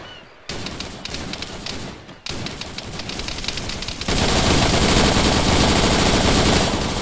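Heavy automatic gunfire in the military shooter ArmA 3, starting as rapid bursts with a short pause, then swelling into a loud, dense, continuous fusillade without any talk.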